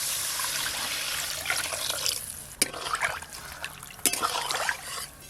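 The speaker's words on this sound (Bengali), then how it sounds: "এবার পরিমাণ মতো জল দেব।" Water is poured steadily into a pan of curry paste, a continuous close splashing trickle with a couple of sharper clinks partway through.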